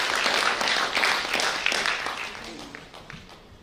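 An audience at a kavi sammelan poetry gathering applauds a poet. The dense clapping is strongest at first and then thins out and fades, with some talking over it.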